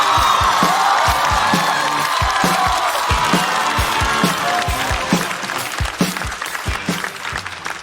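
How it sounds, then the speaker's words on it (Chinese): A studio audience at a stand-up comedy show claps in loud, dense applause with scattered cheers and whoops, gradually thinning toward the end. "我们掌声有请"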